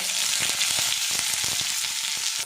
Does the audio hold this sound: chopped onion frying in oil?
yes